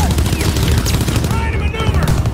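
Rapid bursts of automatic gunfire in the World War II shooter game Call of Duty WW2, loud and close, with overlapping shots that fill the whole moment while a voice is heard amid the shooting.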